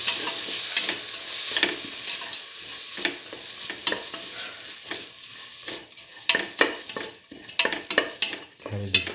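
A spoon stirs black lentil rice, made with urad dal, as it sautés in a pan, giving a steady close sizzle broken by irregular scraping clicks against the metal.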